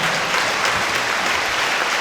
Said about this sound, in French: Je voudrais humblement prier l'assistance pour applaudir 3 minutes